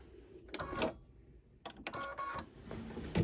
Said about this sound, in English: This is pretty thick that it's stitching through. So you may hear it struggle a teensy bit.